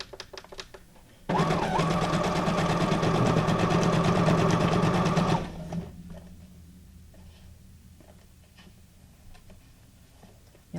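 A sewing machine stitches through guest-check journal cards, running loud and steady for about four seconds before stopping, followed by quieter handling noises.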